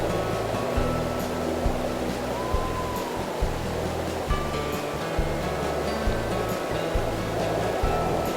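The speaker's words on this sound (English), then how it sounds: "But even when closed, strong gusts of wind continue to ruffle the water." Choppy water slapping and washing against the walls of a river lock as strong gusts of wind ruffle its surface, a steady broadband wash with a low engine-like hum underneath and no voices.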